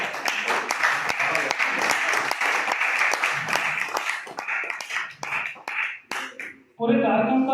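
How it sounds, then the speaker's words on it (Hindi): An audience at a police honour ceremony gives a thin, scattered round of applause that fills the first few seconds, then fades into a man's speech. "मेरे सम्मान में आप लोगों ने जो कमजोर ताली बजाई है"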